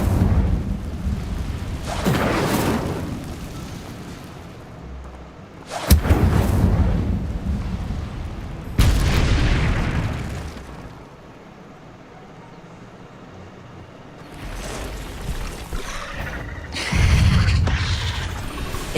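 Repeated Incendio fire spells blast in Hogwarts Legacy, each a loud booming burst with a roaring tail. Several spaced eruptions are separated by quieter stretches of low rumble.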